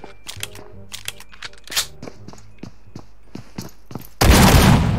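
Pistol shots in a video game ring out as a quick series of sharp, close cracks with short gaps between them, and a loud burst of noise comes in near the end.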